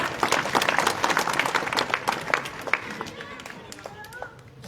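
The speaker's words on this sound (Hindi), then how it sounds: "तो एक बार जोरदार ताली महेंद्र" A crowd at an election rally in Bhirani bursts into brisk, close clapping for a speaker named Mahendra; the applause thins and fades within a few seconds as a voice takes over.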